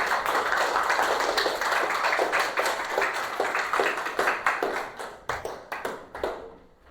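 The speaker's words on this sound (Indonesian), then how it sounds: "tepuk tangan untuk kelompok 3." A primary school class claps for a student group in a Quran lesson. Full clapping thins into scattered, distinct individual claps that taper off to quiet.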